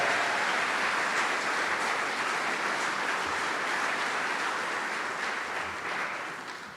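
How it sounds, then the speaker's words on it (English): A conference audience gives a long round of applause, a steady crowd of clapping hands that holds evenly and then begins to thin and fade toward the end. "Let's give these Scots a round of applause."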